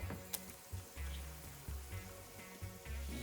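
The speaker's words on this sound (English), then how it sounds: "then we're going to fry them in some oil" Potato patties made from french fries, bound with egg and flour, fry in oil with a steady, fairly quiet sizzle, broken by soft low bubbling pulses at regular intervals.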